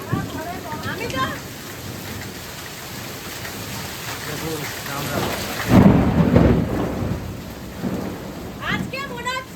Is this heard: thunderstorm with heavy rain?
yes